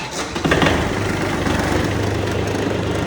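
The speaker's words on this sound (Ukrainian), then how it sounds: "Заводимо куботу." A Kubota tractor engine starts with a short rising burst, then settles into a steady, loud, low diesel idle close by, with no talking.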